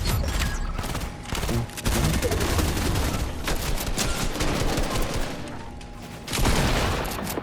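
Hunter Rifle gunfire in Fortnite comes as a run of sharp shots amid dense battle noise, with a brief pause, then the loud crackling firing resumes.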